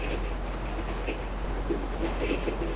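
A steady, continuous rumble of a moving train in a GTA video game on PS5, with a faint rhythmic rattle, heard alone with no talking.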